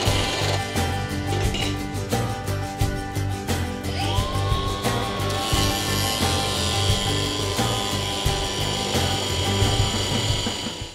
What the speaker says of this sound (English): I'm going to score those with the grinder.